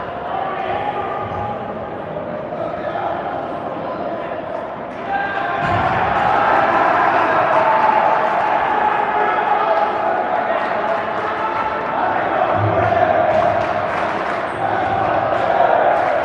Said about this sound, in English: We got the U16s cheering for the Barons